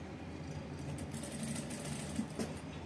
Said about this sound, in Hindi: अब इसे अंदर डालने के बाद जो है तो हम इसके ऊपर एक सिलाई लगाएंगे।